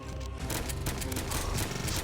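Rapid AK-47 gunfire rattles in the Zombie Fire 3D video game, dense overlapping bursts of shots that fill the whole stretch, loud and continuous with no pauses.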